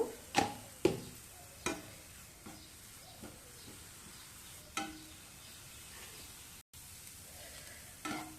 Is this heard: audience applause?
no